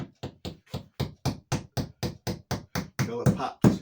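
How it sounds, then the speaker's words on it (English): Hammering a push-pin wall anchor into a hole in a wall: a steady run of about fifteen sharp, evenly spaced knocks, the last few louder with a voice briefly mixed in. "You push this into the hole like that, and then you hammer it"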